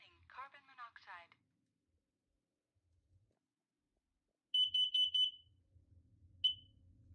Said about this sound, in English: This one's a gas and CO combo.